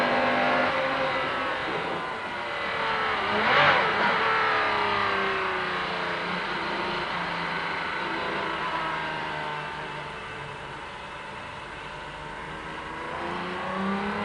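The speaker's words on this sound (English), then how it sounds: "another lap of the Silverstone Grand Prix circuit in this superb sports racing car" A Jaguar XJR-9 sports racing car lapping the Silverstone Grand Prix circuit, its engine droning loud and close from onboard with rising and falling pitch through gear changes, no talking.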